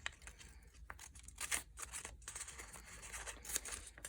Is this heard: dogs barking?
no